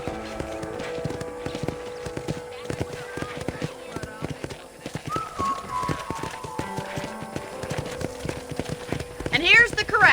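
Steady hoof clip-clops from a walking horse in Red Dead Redemption, rhythmic and fairly close, with background game music and voices chatting over it throughout, near a ranch corral.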